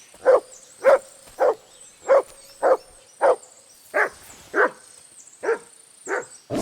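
Mutz the dog barks in the medieval game Kingdom Come: Deliverance 2, about a dozen sharp, evenly spaced barks roughly half a second apart, close and clear over quiet background.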